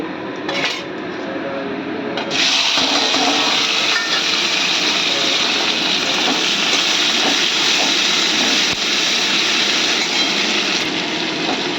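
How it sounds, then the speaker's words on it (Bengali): Bitter gourd frying in hot oil with radhuni seasoning makes a steady, loud, hissing sizzle that runs unbroken throughout, with occasional clinks of utensils and no talk. "এখন উচ্ছে ভাজবো, তেল দিয়েছি"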